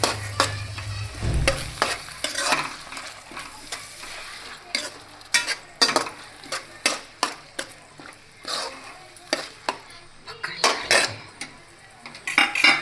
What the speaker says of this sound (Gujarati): વટાણાની પેસ્ટ કરીને રાખી હતી એ પણ અંદર કટ દઈએ અને થોડું હલાવી નાખીએ